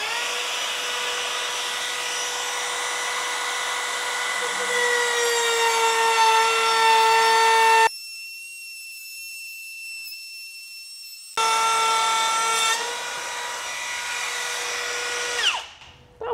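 A power saw cuts through wood for a beginner's table build, a steady loud whining drone with strong tonal harmonics that stops briefly midway, then resumes and winds down at the end.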